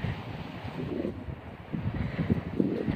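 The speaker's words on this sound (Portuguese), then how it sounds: "Tá ventando, hein? Nossa, que vento." Strong wind gusting across a vegetable garden with frost cover fabric (TNT) stretched over the beds, a steady rumbling buffet that swells louder toward the end, with no talk.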